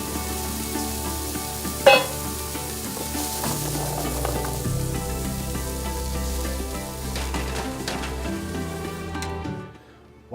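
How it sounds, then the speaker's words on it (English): Carrots hit a hot pan preheated in the oven, setting off a loud, steady sizzle close up, with a sharp clatter near the start and the hiss fading away at the very end. "So this just goes right into our pan that has been preheating in the oven."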